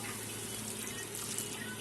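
Water poured from a small amount into a pan of sautéed masala while cooking a Bengali tilapia fish curry, a soft continuous rushing trickle, brief and fairly quiet.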